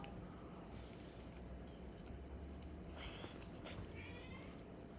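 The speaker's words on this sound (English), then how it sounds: "You hear the meowing?" A cat meows repeatedly, a few separate calls at moderate distance against a low steady hiss, with no one talking.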